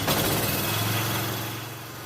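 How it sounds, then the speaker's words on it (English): A Kohler K Series small engine runs steadily after starting, a loud, close, buzzing drone with a rapid even firing rhythm that eases slightly toward the end. "As you can see, the engine starts and runs great."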